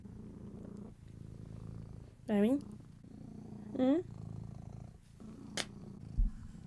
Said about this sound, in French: Arrête de ronronner.